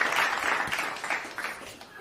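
A podcast panel gives a short round of applause, steady dense clapping that gradually tapers off over two seconds, with no talking over it.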